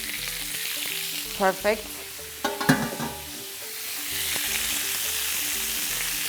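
Steady sizzling of dried potatoes frying in hot olive oil, with a brief voice and a few clinks of a utensil partway through.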